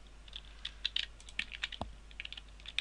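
Typing on a computer keyboard, a rapid, uneven patter of light key clicks close by with one slightly heavier knock partway through, no voices.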